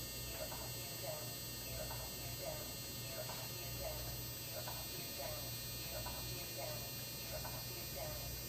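Retractable landing gear on a radio-controlled model airplane, run by an AG-68 retract and brake controller with a DS-3 gear door controller, cycles with faint repeated mechanical whirring bursts over a steady electrical hum.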